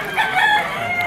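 A rooster crows once at a Malabon pet market, a short, bright, strained call standing out clearly against quiet background.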